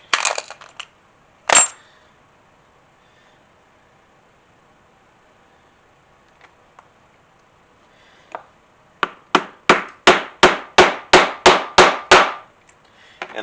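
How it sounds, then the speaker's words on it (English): A hammer taps a snap setter on a dished anvil to set a female snap. One sharp strike sounds early, then quiet follows, then a steady run of about ten crisp, evenly spaced metallic taps close by. "I'm rotating my tool, my setter, as I tap on that"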